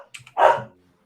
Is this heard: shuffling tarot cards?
no